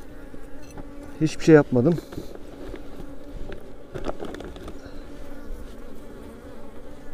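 Honey bees buzz steadily around a homemade styrofoam hive, a dense insect drone throughout with a louder swell as bees pass close, and a brief spoken remark.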